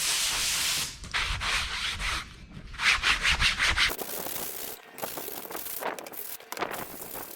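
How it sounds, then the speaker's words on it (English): A fiberglass wing worked with 36-grit paper on a long sanding block, giving close, rhythmic rasping strokes, some bursts faster and brighter, with short pauses between passes. "I'm gonna go ahead and hit it with some 36 grit on a long block"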